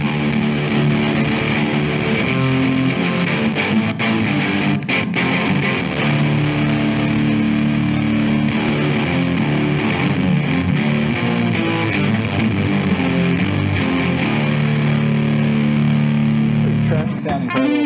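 An electric guitar played through a Pro Co Rat distortion pedal gives gritty, saturated chords and riffs that ring continuously at a loud, even level, with brief choppy accents, for about eighteen seconds.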